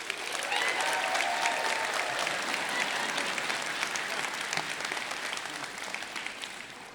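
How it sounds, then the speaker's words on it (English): An audience applauds at a medical school white coat ceremony, sustained dense clapping that fills the hall at a steady level and tapers slightly toward the end. "I'm really glad everyone's cheering for the anatomy faculty right now."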